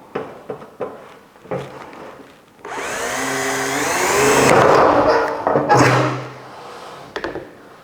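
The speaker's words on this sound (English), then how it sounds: "So it's time to drill into metal" A few clicks and taps, then a Bosch GSB 183-LI 18V cordless impact drill whirs and grinds into sheet metal with a metal bit for a few seconds, rising in pitch before stopping, followed by light clatter.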